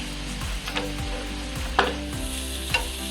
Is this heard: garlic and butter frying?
yes